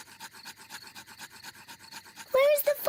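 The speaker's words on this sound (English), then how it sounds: "Daddy Pig is rubbing the two sticks together to light the campfire" Two sticks are rubbed together rapidly to light a campfire, a steady rhythmic rasping scrape repeating about ten times a second, with a short high voice breaking in at the end.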